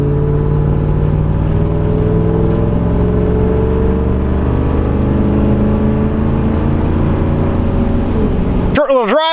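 A Land Rover LR4 on a short test drive: a steady engine and road drone holds close and loud throughout, with a voice speaking over it and a sharp change right at the end.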